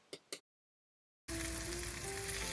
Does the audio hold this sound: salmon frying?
yes